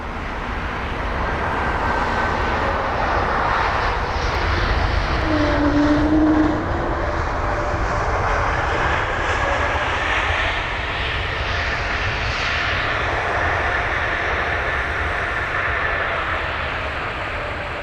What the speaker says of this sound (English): This is the A220-300 with the reg Hotel Bravo Juliet Charlie Sierra, or HBJCS, and this is the arrival from Geneva